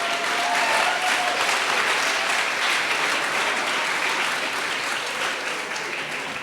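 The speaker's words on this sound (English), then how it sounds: "Round of applause for Juneteenth." Steady applause from an audience at a Juneteenth ribbon cutting for a permanent supportive housing tower, even and sustained throughout with a faint crowd murmur beneath.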